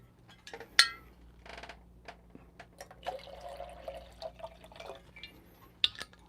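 Water trickles and drips into a coffee brewer in a quiet room, with faint clinks of glass and a few sharper taps.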